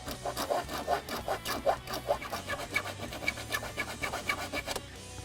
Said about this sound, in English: we're going to file a notch right here in the pinch weld